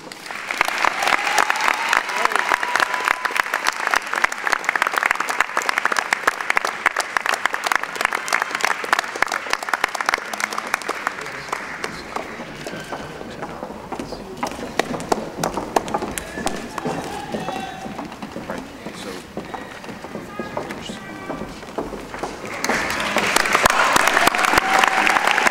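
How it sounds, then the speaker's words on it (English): Applause at a university commencement ceremony, a dense burst of clapping that thins into scattered claps with voices in the middle, then swells again at the end. "Please hold your applause until I finish reading their names."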